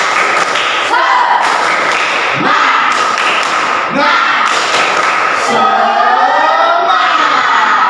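A group of students performing rhythmic spirit clapping (tepuk semangat) during a class before going out to the field, loud patterned claps and thumps in bursts with shouted voices mixed in.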